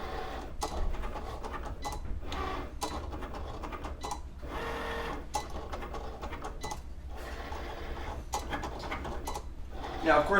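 A cutting machine slices out a LEGO Master Builder shirt design, giving a steady run of short whirring carriage passes with brief pauses between them, fairly quiet and close, while people talk faintly nearby.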